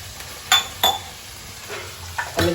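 Water hits hot oil and spices for undhiyu and sizzles softly in the pan, punctuated by several sharp metal clinks of a spoon stirring against the pot.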